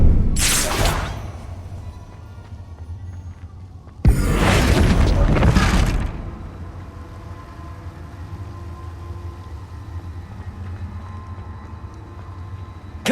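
Two loud, bursting blasts of the Confringo spell in the video game Hogwarts Legacy, a short crack followed by a longer roaring explosion, then a lingering low rumble.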